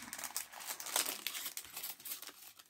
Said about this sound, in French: Enfin, ouvrir le sachet.